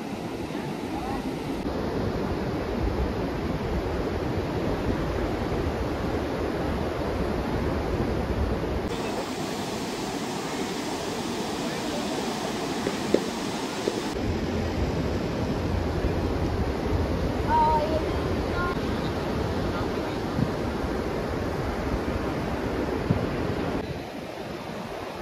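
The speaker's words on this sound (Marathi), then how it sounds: "आम्ही आता मस्त बीचवर आलोय." Ocean waves wash steadily onto a beach at Diveagar on the Konkan coast under cloudy, rainy skies, a continuous broad roar with heavy wind buffeting the microphone throughout.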